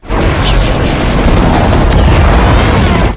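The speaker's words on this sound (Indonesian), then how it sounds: "pasukan udara Jepang menyerang dengan tembakan dan bom yang mulai dijatuhkan ke semua kapal yang berada di Pearl Harbor" Bombs bursting during the Pearl Harbor attack in the war film Midway, a continuous roaring wall of explosions and blasts, very loud and dense throughout with no pauses.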